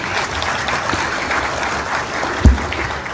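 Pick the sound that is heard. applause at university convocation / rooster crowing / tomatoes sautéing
applause at university convocation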